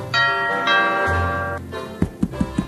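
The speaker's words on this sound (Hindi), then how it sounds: "घंटी से चिपक गई क्या?" A doorbell chimes twice in a long ringing two-tone ding, followed by several quick sharp knocks or rapid rings, loud and close in a home with no voices.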